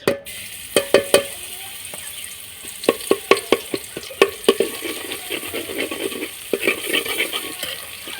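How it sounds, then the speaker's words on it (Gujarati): Mustard seeds, cumin and garlic frying in hot oil for village-style tuvar dal, a steady sizzle broken by repeated sharp pops and spatula clicks, close and without talk. "તો જો રાઈ જીરું આપણું સરસ શેકાઈ જાય છે. આપણે નાખશું તેલ, લસણ નાખી દેવી."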